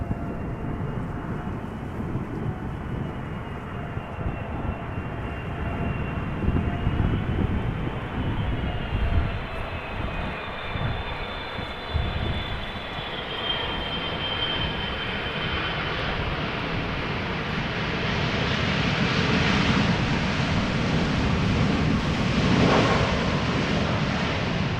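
Airliners landing in a crosswind at Amsterdam Schiphol Airport, a loud, sustained jet engine roar with whining tones that grows and shifts as an aircraft passes, set against wind and distant outdoor rumble.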